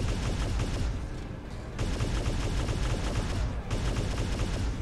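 Airstrike explosions and gunfire in the War Robots PvE game mode, a dense, continuous barrage of loud booms and blasts that keeps rolling without a break.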